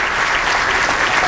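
Loud, dense crowd applause and cheering at a PBA Tour bowling event, celebrating Kelly Kulik's win, a steady continuous roar with no gaps.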